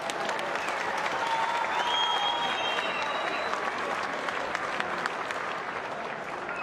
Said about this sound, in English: a nice big round of applause for Kevin Munoz,